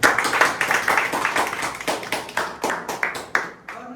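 Loud group clapping at a weekly business meeting, a dense run of sharp claps that swells and fades in waves over about four seconds, close and energetic with no talk over it.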